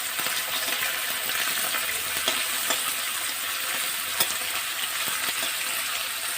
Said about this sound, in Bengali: এবার মাছগুলো আমি একটু হালকা ভাজা হতে দেবো।